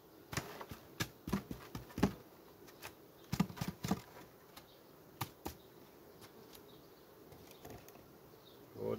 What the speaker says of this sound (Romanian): Iată ce de albină avem aici. Deci foarte multă albină